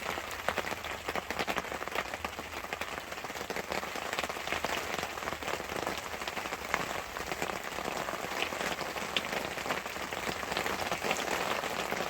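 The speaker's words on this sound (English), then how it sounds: "It rains every afternoon." Steady heavy afternoon rain drums on a surface at an off-grid mountain camp, a dense continuous patter that holds at an even level throughout.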